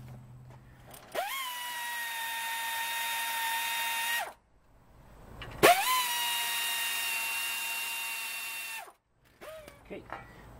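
A power driver whirs in two long steady bursts, each lasting about three seconds, as it tightens 5/16 Allen bolts on a brake caliper of a 1990 Buick LeSabre, with a brief click between bursts.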